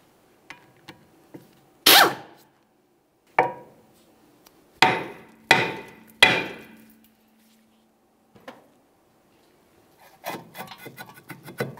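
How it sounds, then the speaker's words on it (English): Rear brake rotor on a 2006-2012 Ford Fusion being hammered free from the wheel hub: sharp metallic strikes ringing out one at a time at uneven intervals, then a cluster of quicker clattering knocks at the end. "Break the rotor free and remove it from the vehicle."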